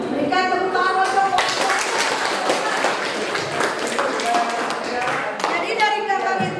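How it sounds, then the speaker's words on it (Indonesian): An audience at a university event in Serang claps in a steady burst lasting a few seconds, with a speaker's voice just before and after. "Berikan tepuk tangan untuk."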